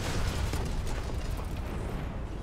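A C4 charge detonates on the ground in the video game Black Ops 6, a loud broad rumbling blast that fills the whole moment and slowly fades.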